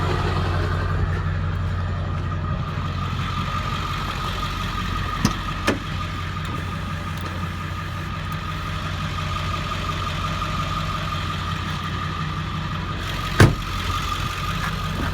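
A 2001 diesel pickup truck engine idles with a steady, loud, even rumble, broken by a couple of brief clicks or knocks.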